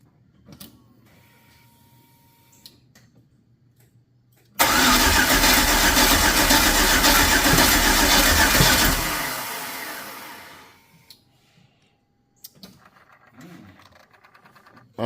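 An LS-swapped Chevy OBS pickup truck fires up for the first time, a loud burst of engine roar lasting several seconds before dropping away, with quiet shop sounds and faint voices around it.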